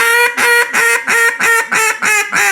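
An Iverson duck call blown in a raspy, low-ended chuckle: seven quick, close, loud quacks in an even rhythm with short gaps between them.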